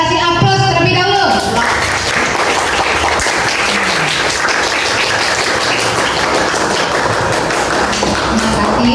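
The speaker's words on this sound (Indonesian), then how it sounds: "Kita kasih aplaus terlebih dahulu" A classroom group receives applause, steady clapping from many hands filling the room for several seconds after a voice briefly speaks at the start.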